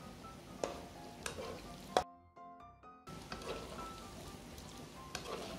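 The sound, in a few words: cashew nuts frying in oil in a pan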